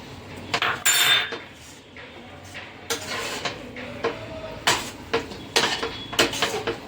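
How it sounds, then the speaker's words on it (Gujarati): Spiced potato masala with coriander stirred in a metal pan for aloo paratha filling, irregular clinks and scrapes of a spoon against the vessel, close and uneven, mostly without talk. "બધું હલાવી નાખશું."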